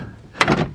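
A door trim panel is pressed onto the door of a Mazda FD RX-7, giving a sharp plastic thunk followed by a short scraping rattle, close and alone.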